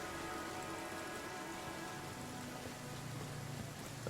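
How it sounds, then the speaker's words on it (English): Steady rain falls in the video game Pathfinder: Kingmaker, a continuous dense patter on surfaces that holds at an even level throughout with no voices. "It started raining."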